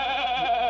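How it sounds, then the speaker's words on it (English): Arthur the goat gives one close, wavering bleat that holds steady for under a second. No one speaks. "here's Arthur, my goat"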